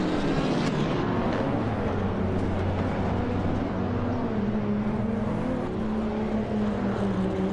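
A 2014 BMW M235 racing in iRacing, its engine droning loud and continuous with rising and falling pitch across the whole stretch, no voices.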